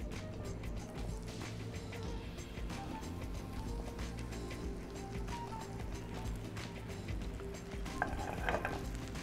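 Mushrooms sizzle and fry in a hot pan with a soft, continuous crackle and scattered pops, plus occasional clinks of a utensil stirring. The sound is fairly quiet and even throughout.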